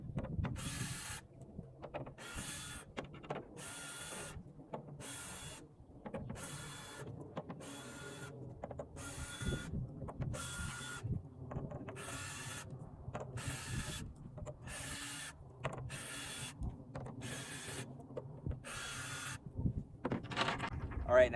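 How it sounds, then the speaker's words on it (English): Rhythmic ratchet clicking comes in regular bursts as bolts are backed out of a Toyota Tacoma tailgate panel, close and distinct against a quiet background, with a faint voice in places. "we're just going to take out all of the bolts"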